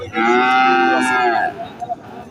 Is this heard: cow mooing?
yes